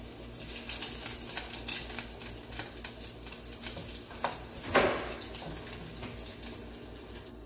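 Garlic frying in a pan for a Malvani prawn curry makes a soft continuous sizzle, faint and close, with a few brief scrapes and one louder crackling burst midway.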